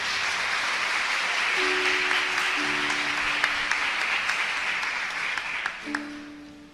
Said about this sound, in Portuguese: Vamos aplaudir o Evangelho de Jesus?